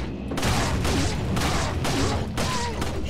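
Handgun shots in the game Resident Evil 4, four or five evenly spaced loud reports with ringing tails over a steady game background, no speech.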